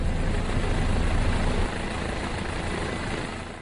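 Helicopters taking off after landing at a remote site, giving a loud, steady rotor and engine roar close by that drops slightly partway through, with no voices.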